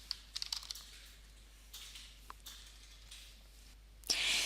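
Quick bursts of keystrokes on a computer keyboard as a project name is typed in, several clusters of taps followed by a louder rustle near the end, with no talking.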